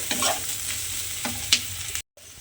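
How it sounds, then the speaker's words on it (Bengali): Onion fries in hot oil over low gas with a continuous close sizzle and occasional stirring scrapes, then drops out abruptly near the end before the sizzle returns. "দিয়ে পেঁয়াজটাকে একটু লাল করে ভেজে নেব"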